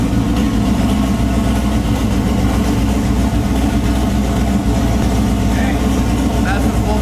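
A turbocharged LS-swapped Nissan G35 idles through its first warm-up with a steady, deep, loping rumble, and voices talk over it.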